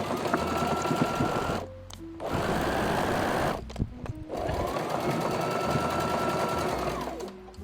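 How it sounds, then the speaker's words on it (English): A sewing machine stitches a cotton T-shirt about a centimetre from the edge in three bursts of rapid, even whirring, loud and close, with short pauses between runs. "I'm sewing about 1 centimetre away."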